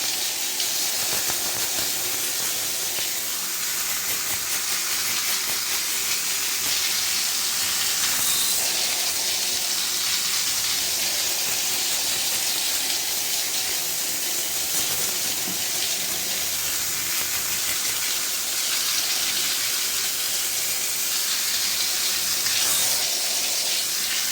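An ordinary household water pump spraying water, a steady broad hiss of spray running without a break.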